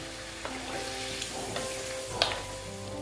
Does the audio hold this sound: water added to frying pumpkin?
yes